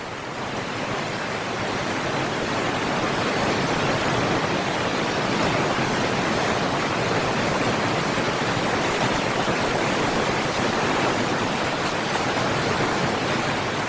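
A rushing river current in the Alaskan wilds surges as a steady, loud broadband roar with no let-up, a dense wash of water noise running evenly from start to finish.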